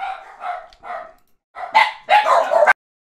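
Several dogs, a mixed pack of household dogs, bark at a parcel delivery to a house, starting with a few sharp barks and then erupting in louder, overlapping bursts of barking close by.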